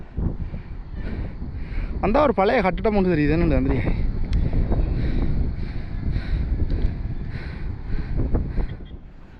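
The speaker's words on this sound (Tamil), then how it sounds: "இந்த காற்று கொஞ்சம் கூலாக இருக்குன்னு" Steady, gusty wind buffets the microphone with a low rumble throughout at a hillside Buddhist temple in Kurunegala, Sri Lanka, while a person talks over it.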